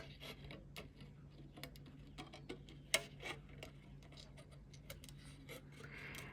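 Scissors snip around the edge of a shrink plastic sheet, giving a quiet series of sharp, irregular clicks over a low steady hum, close and faint.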